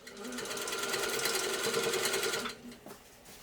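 A sit-down quilting machine stitches a large quilt in a fast, steady mechanical whir for about two and a half seconds, then stops and gives a couple of faint clicks.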